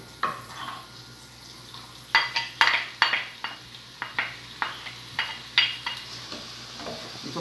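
Garlic cloves and onion dropped into hot oil, with a soft steady sizzle under a series of sharp utensil clacks and scrapes against the pot, about a dozen knocks in an irregular rhythm.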